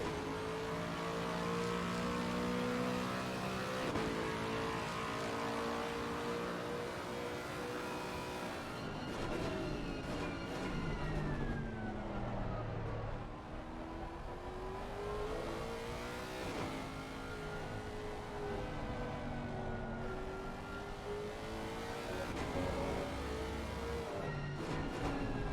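A race car in the Assetto Corsa Competizione video game laps the Nurburgring, its engine revving up and down through gear changes in a continuous, fairly faint whine across the whole stretch.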